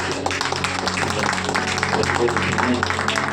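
A congregation at a Sunday deliverance church service claps loudly and continuously, with music and voices sounding underneath the applause throughout.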